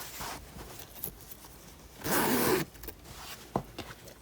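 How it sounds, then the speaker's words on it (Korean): The zipper on a handmade quilted square-patch tote bag is pulled open in one quick rasping run, close up, with soft fabric rustling before and after. "이렇게 지퍼까지 다 달아주었고요. 한번 열어볼게요."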